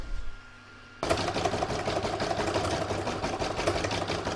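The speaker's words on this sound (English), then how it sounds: "Now I'm going to do round 9, which is a fancy stitching along this join here." An embroidery machine stitches a decorative fancy stitch along a seam on an in-the-hoop crazy patch bookmark, starting abruptly after a second of quiet and then running steadily with a fast, even mechanical rattle, close and loud.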